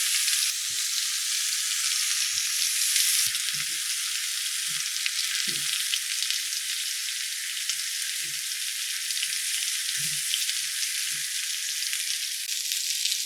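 Steak sizzles steadily in a Caraway ceramic pan with garlic and rosemary, a constant loud hiss with scattered small pops and spatters, no voices.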